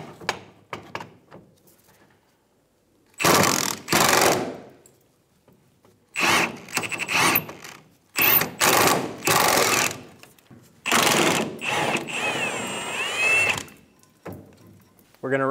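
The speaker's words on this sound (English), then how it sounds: "Using a 14 millimeter socket, we're going to remove the bolts for the fuel tank straps." A 14 mm socket on a power tool removing the fuel tank strap bolts of a 2005-2015 Toyota Tacoma 2.7L, several loud whirring bursts of a few seconds each separated by quiet pauses, close by.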